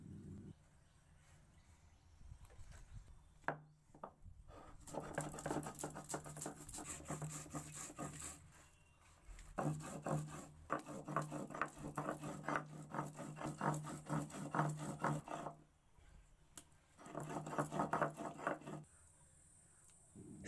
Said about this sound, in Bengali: এখন আমি হাফ চামচ কালো সর্ষে আর হাফ চামচ মতো পোস্ত, 3টে কাঁচা পাকা লঙ্কা একটুখানি জল দিয়ে একসাথে বেটে নেব।